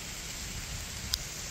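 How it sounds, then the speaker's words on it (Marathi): Steady rain falls during an unseasonal May downpour in a Maharashtra village, a dense, even hiss of drops with no break and no voices. "आज आहे ना एवढ्या दिवसांमध्ये आज लय जोरात पाऊस झालाय"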